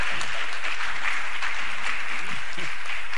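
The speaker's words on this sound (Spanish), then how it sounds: "Aplauso." Congregation at a church service applauding, a dense, steady wash of clapping with low-pitched voices or music underneath throughout.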